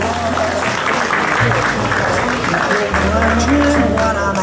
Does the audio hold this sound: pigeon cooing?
no